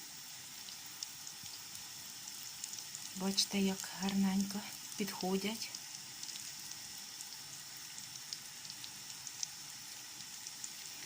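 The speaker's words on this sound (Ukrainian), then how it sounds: "Ось млинці вже смажаться на невеличкому вогні." Yeast pancakes frying in a pan over low heat, a steady soft sizzle running throughout with someone speaking briefly over it near the middle.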